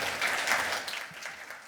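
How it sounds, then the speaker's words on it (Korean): Audience applause following a keynote astronomy lecture at a conference, a short burst of clapping that fades quickly. "다시 한번 큰 박수 부탁드립니다"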